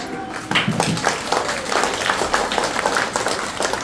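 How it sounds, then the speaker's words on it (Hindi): An audience at a school Bal Vatika programme event in Kurebhar, Sultanpur breaks into loud, close clapping that continues in steady bursts for several seconds. "एक बार उनके लिए जोरदार तालियां हो जाए"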